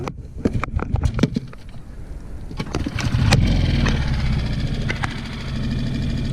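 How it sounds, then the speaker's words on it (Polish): An outboard boat motor on the Oder river is started with a few sharp pulls and clicks, then catches and runs with a steady, close, moderately loud drone. "Odpal silnik"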